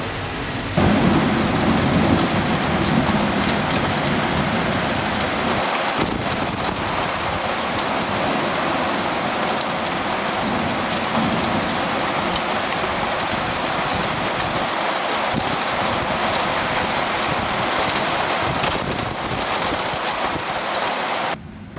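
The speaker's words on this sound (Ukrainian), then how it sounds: "прийшла гроза." Heavy thunderstorm downpour lashes down steadily and loudly, a dense continuous roar of rain that never lets up across the whole stretch, with no voices.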